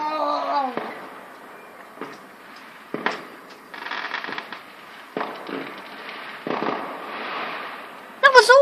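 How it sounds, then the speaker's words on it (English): Bonfire night fireworks in the UK on 5 November, scattered distant bangs and crackles from across the area at irregular intervals, with a voice at the start and a louder crackling burst near the end. "There's some fireworks going on over there."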